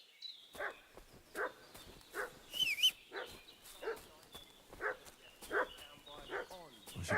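A dog barks repeatedly in a medieval village in Kingdom Come: Deliverance II, sharp evenly spaced barks at moderate distance, with faint speech underneath.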